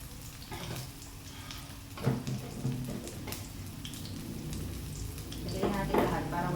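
Onion sizzles in a hot pan as adobo is being cooked, a soft crackling hiss with occasional louder stirring clatter, heard at moderate distance and fairly quiet overall.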